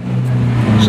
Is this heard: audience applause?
no